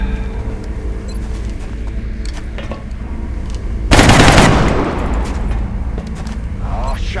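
A single loud gunshot-like burst from a video game firefight, sudden and broadband, decaying over about a second above a steady game ambience with background hum.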